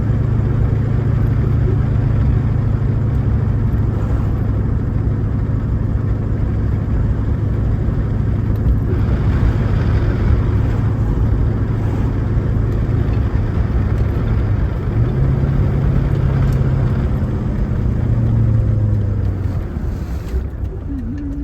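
A 1995 Ford Mustang GT fitted with an SVE Mongoose shifter and brass bushing, heard from inside while driving: a loud, steady engine drone and road roar with a pitch change partway through as the car shifts or changes speed.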